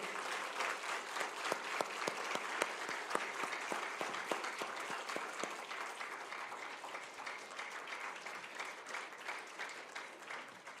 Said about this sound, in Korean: 격려의 박수를 보내드리겠습니다